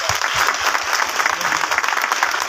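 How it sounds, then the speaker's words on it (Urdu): A church congregation claps steadily and loudly, a dense, even wash of applause from many hands filling the room without pause. "آئیں خدا کے کلام کے لیے ہم زوردار تالیاں"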